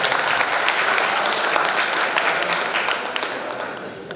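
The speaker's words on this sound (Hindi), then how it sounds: "तालियों का वॉल्यूम भी बढ़ाएं।" An audience at a kavi sammelan poetry gathering in Ujjain claps loudly and steadily, and the applause tapers off slightly toward the end.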